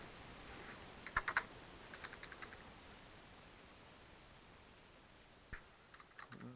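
Computer keyboard typing in a quiet room, a few faint scattered clusters of key clicks separated by a long pause, over a soft hiss of background noise.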